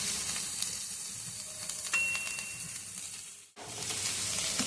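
Samosa stuffing with fried peanuts stirred in a pan over a gas flame: a steady close sizzle and hiss with faint scraping, briefly dropping nearly silent just before the end, then resuming.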